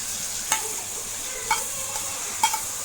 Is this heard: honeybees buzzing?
no